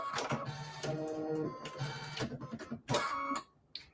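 An embroidery machine stitches a name tag patch, making close, rhythmic mechanical whirring and tapping in repeated bursts, fairly quiet, with a brief pause near the end.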